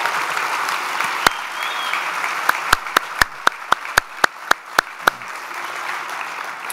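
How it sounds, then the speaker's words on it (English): Audience applause at the Navy League maritime gala, a broad, steady wash of many hands clapping throughout, with a few sharp, loud nearby claps standing out in the middle. "let's give one terrific round of applause for the Navy League and Mr. Alan Kaplan."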